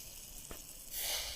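Bratwurst sausages sizzle while cooking at a campsite, a close, steady frying hiss that grows louder for a moment near the end.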